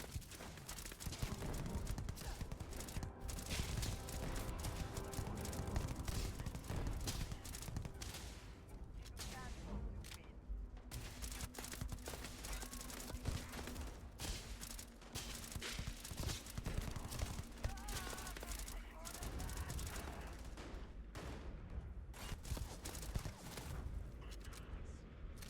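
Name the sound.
gunfire in the video game Starfield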